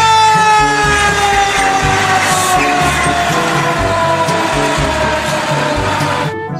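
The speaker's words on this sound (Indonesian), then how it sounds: "di sini ada mobil pemadam kebakaran" A loud, wailing siren from a toy fire truck sounds continuously and close by, its tone sweeping steadily with a mechanical rumble underneath.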